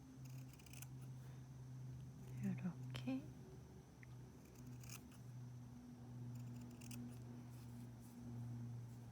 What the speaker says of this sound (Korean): 그리고 안쪽은 이렇게 가위집을 넣어주세요.